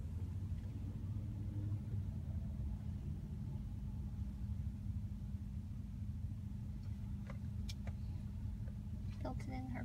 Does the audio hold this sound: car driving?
yes